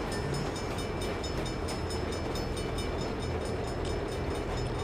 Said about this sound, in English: Bad time for a train.